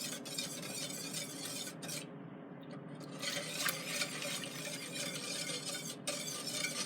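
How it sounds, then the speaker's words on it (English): Milk stirred into an ice cream base heating in a pot, a spoon scraping and swishing steadily against the pot with faint liquid sloshing, close and continuous apart from a brief pause. "you have to keep an eye on this and stir it quite a lot"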